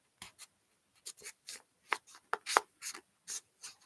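Origami paper being folded and creased by hand, in short separate rustling swipes and rubs, close and fairly quiet, with no talking.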